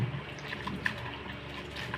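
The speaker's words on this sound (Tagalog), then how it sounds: "Hugasan nito, hugasan natin gamit syempre ang tubig." Tap water splashes as bitter gourd (ampalaya) is washed, a short close run of running water with small drips and clinks, no talking.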